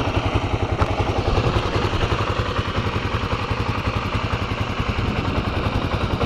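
A motorcycle engine runs steadily at low revs in first gear with the clutch held, a close, loud, even thumping putter with slight mechanical clatter and no pauses.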